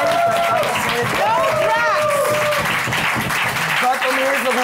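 Studio audience applause on a German late-night talk show, a dense sustained wash of clapping with overlapping voices and cheers, loud throughout and mixed with talk.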